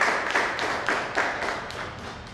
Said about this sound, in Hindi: इसके लिए अपनी रचना धर्मता के लिए एक बार जोरदार तालियां बजाइए